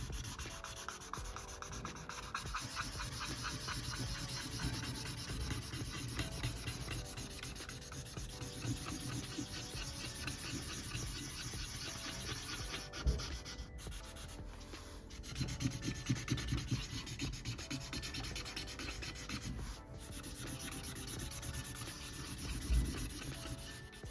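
A warm gray pencil or marker scratches and rubs across paper in steady, continuous strokes for the whole stretch, close and fairly quiet, with no one speaking.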